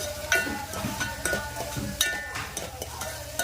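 Tomato being stirred into a mixture in a pan, with a spoon scraping and tapping against the metal in regular strokes over a low sizzle, close and moderately loud.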